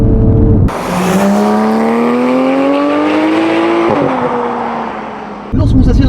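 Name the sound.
Porsche GT3 991.1 accelerating after PDK downshifts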